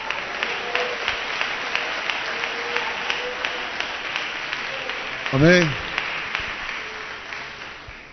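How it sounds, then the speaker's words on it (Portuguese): A church congregation claps together after a sermon line praising Jesus, a dense wash of applause sustained under a preacher's voice, with a brief sung or shouted phrase rising over it midway. "Dá uma salva de palmas para Jesus."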